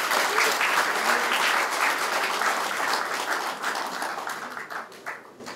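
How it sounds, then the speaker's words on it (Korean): Warm applause from a large audience at a Democratic Party central committee meeting, dense sustained clapping that holds strong, then thins and fades toward the end with a few scattered final claps. "뜨거운 박수 부탁드리겠습니다."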